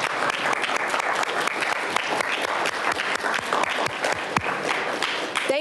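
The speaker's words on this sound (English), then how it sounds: "give them a big round of applause" Audience at a journalism school's opening convocation claps in a sustained, even round of applause, many hands with sharp individual claps standing out, continuing for several seconds without speech.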